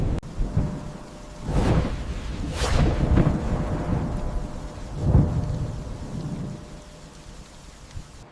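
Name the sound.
thunderstorm with thunder and rain at sea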